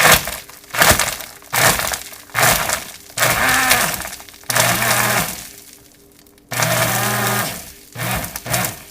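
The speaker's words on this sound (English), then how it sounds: "Just pulse it. And what you're looking for is for the ice not to clink as much" A blender pulses ice for a protein shake in a series of short, loud, grinding bursts of roughly a second each, with crunching and clinking ice and brief quiet gaps between pulses.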